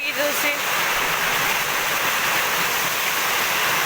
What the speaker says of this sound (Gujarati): તો જો બહુ વરસાદ આવી રહ્યો છે.